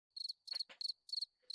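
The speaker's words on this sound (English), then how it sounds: "Very easy cricket sounds." Crickets chirping alone in a quiet setting, a series of short, bright, trilled bursts in quick pulses, fairly close and clear.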